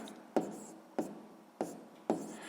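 Pen strokes writing out numbers for a sixth-grade maths fraction exercise: four distinct, evenly spaced scratchy marks on paper, each a short attack that fades, close and quiet, with no talking.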